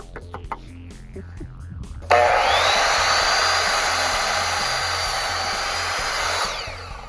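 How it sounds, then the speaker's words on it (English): An impact driver fitted with a socket adapter runs at a chicken tractor build, starting abruptly with a loud, steady high-pitched whine that holds for about four seconds before winding down. "little adapters so you can run sockets on your impact driver"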